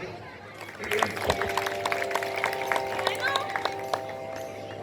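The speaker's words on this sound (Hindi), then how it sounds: "तालियां।" Audience applause as the actress playing Samli enters the stage in the historical Hindi play Deepdan (Panna Dhai): scattered, moderately distant clapping over sustained background music tones and light crowd murmur.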